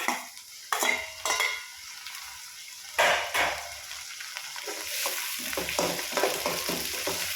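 Tomato and green chillies fry in a pan for vegetable upma, with steady sizzling broken by repeated scraping stirs of a spoon against the metal pan, close and fairly loud, with no talking.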